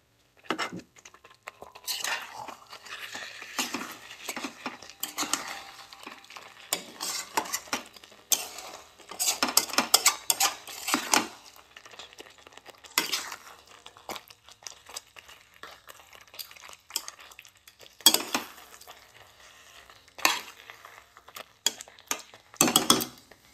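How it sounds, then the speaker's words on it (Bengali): Chicken leg pieces being stirred into masala in a pan, heard as intermittent scraping and clinking of a spoon against metal with soft crinkly sizzling between strokes, fairly close and without talk. "নাড়িয়ে একটু মশলার ভেতরে ঢুকিয়ে দেবো মাংসগুলো"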